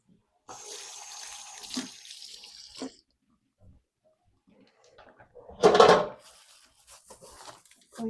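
Tomatoes being washed under a running kitchen tap, a steady broadband rush of water flowing for a couple of seconds, then a louder, brief splashing burst later on, with quiet gaps between.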